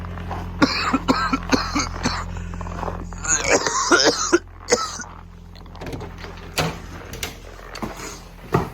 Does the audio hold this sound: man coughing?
yes